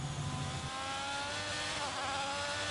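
A race car in a racing game whines at high revs, then the engine note drops as it downshifts to fourth gear and brakes, a continuous mechanical drone with no one talking.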